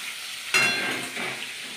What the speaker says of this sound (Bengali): এই চিংড়ি হচ্ছে ভাজা প্রায় কমপ্লিট